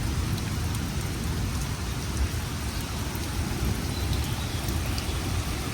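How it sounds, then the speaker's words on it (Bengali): Light rain falls steadily and evenly in the calm after a Kalbaishakhi storm at a home in the Bangladeshi countryside, a soft continuous patter on surfaces throughout with no voices. "বৃষ্টিটা এখন অনেকটা হালকা হয়েছে, তারপরেও কিন্তু পড়তেছে।"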